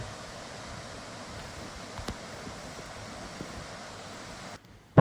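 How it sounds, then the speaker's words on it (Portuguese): Steady broadband rushing of a waterfall cascade with very clean water along a long-distance walking route, constant and fairly close, with a brief tap near the middle and an abrupt drop at the very end. "Cascata,"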